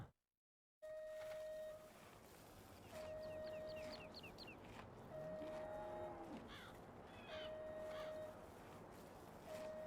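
Cows mooing in the farming game Farming Simulator 17: a low, drawn-out moo rises from a steady farmyard ambience, while repeated electronic tones and clucking-like calls recur throughout at moderate volume.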